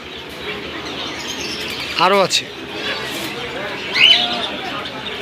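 Pigeons at a pigeon market stall in Jinjira bazaar, Keraniganj, Dhaka, with short chirps and coos rising over a busy crowd backdrop while someone talks throughout.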